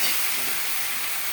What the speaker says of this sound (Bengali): লতিটাও ভালো করে একটু ফ্রাই করব।